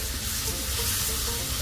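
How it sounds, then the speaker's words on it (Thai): Squid with holy basil being stir-fried in a hot pan, a steady dense sizzle with light scraping of the spatula throughout, close and continuous with no talking. "แล้วก็ผัดคลุกเคล้าทั้งหมดให้เข้ากันนะครับ"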